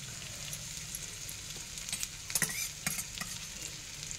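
Mutton frying with grated raw mango, a steady low sizzle in the pan with a few scraping stirs of a spoon near the middle, fairly quiet and close.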